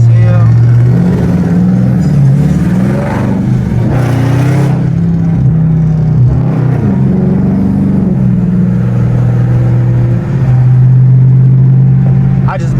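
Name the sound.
Dodge Scat Pack car engine revving loudly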